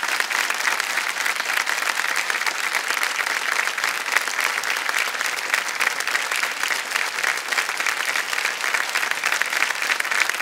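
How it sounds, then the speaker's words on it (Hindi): Studio audience on a quiz show applauding a contestant's cheque win, a loud, sustained roar of clapping from a large crowd that stays dense and even throughout. "तालियां बज जाए इनके लिए।"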